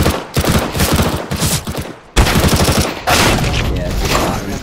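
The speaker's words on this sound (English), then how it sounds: "I think it's a shotgun" Gunfire in Counter-Strike: Global Offensive: a loud, dense barrage of rapid shots that drops out for a moment near the middle and then resumes just as heavily.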